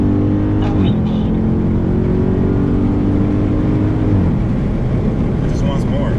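A naturally aspirated Dodge Charger Scat Pack accelerates hard on a road. The loud engine note climbs, drops at a gear change, climbs again to a high-revving pitch and then shifts once more.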